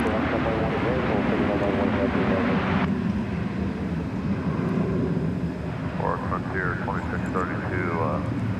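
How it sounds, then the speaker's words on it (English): Boeing 767-300ER cargo jet in DHL livery operated by ABX Air at DFW Airport, a continuous broad engine roar under ongoing speech, loud and steady. "the much beloved ketchup and mustard DHL livery. This is 767, operated by ABX Air."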